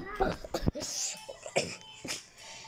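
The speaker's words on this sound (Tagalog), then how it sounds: "Inuubo ako guys." Several short, harsh coughs close up, broken into separate bursts with brief pauses between them.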